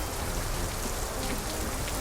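Steady rain pours down at Pasar Tebet market, a dense continuous hiss of drops on surfaces with no pauses or voices over it.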